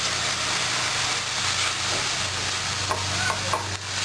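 Sloppy joe mixture of meat with Worcestershire sauce and red wine vinegar sizzling in a pan over medium heat, a steady broadband hiss with faint stirring scrapes and clicks, close and continuous throughout.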